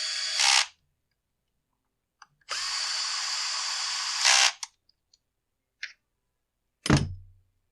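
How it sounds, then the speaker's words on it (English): A power driver bolts down the top cover of a Husqvarna 365 chainsaw: a short whir, then a longer steady burst of buzzing, followed by a few brief clicks and blips and a final thump, all close and loud. "we'll get this top cover bolted down"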